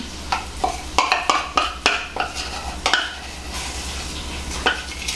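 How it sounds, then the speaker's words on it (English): Peanut butter being creamed for chocolate peanut butter cookie dough, heard as a series of close, rhythmic scraping and knocking stirring strokes against a bowl, with a steady low hum underneath and no talk. "We're going to go ahead and cream up our peanut butter, which is 3/4 of a cup."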